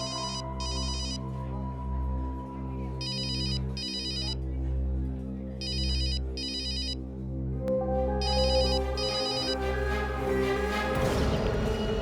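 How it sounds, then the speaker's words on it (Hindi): A telephone rings on and on without being answered, a repeating electronic ringtone in regular bursts over a steady background of music, fairly loud and close, with a sharp crash-like swell near the end. "फोन करने पर फोन नहीं उठा रहा है,"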